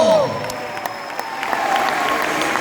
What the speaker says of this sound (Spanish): Fuerte ese aplauso al cielo.